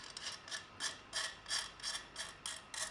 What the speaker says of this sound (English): So go ahead and take some middle nuts and start screwing them